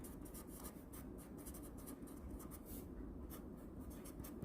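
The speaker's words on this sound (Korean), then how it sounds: "선생님이 식을 하나 써볼게요." A teacher writes an equation on a board with faint, continuous scratchy strokes that rasp and pause, quiet and close.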